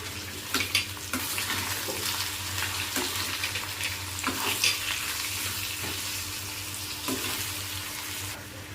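Potato slices coated in onion-garlic masala, red chilli, kitchen king masala, coriander powder and salt fry in a pan, with a steady close sizzle broken by repeated scraping stirs and light clatters, no talking.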